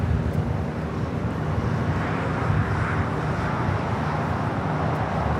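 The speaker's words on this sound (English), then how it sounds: "That's where we find a Delta 767 at 300ER now rotating." A Delta Boeing 767-300ER jet rotates on takeoff from runway 24 left at Los Angeles International Airport, heard as a steady, broad engine roar from a distance with no talking.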